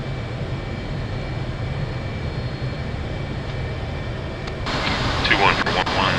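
A military jet rolls for takeoff at full burner. A steady engine roar runs under radio chatter and swells louder toward the end.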